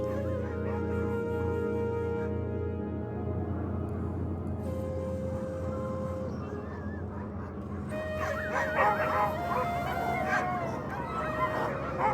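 Sled dog teams on an Arctic patrol bark, yip and howl together in a sustained chorus, growing busier and louder toward the end.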